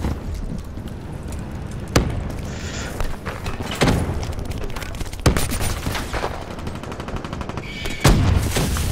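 Single gunshots in a shooter game, sharp cracks spaced roughly every second or two over a steady background rumble of game noise.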